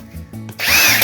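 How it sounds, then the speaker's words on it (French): A power drill with a concrete bit bores into ceramic tile in a bathroom being renovated, first giving a few short low pulses, then a loud, close, harsh whining grind. "on met une mèche à béton. Voilà, puis percer tranquillement"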